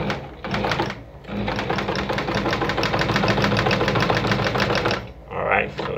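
A Juki DIA Rotary 7 sewing machine stitches one side of a buttonhole in a steady, rapid mechanical whir lasting several seconds, close and loud, with a short start-up burst before it and a brief sound after it stops.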